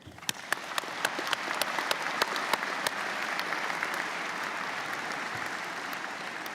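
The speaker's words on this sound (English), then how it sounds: "May I ask you to please join me in a round of applause for MRU's staff and faculty" Convocation audience applauding staff and faculty at a university graduation, opening with a few distinct nearby claps before swelling into a sustained, broad wash of crowd clapping.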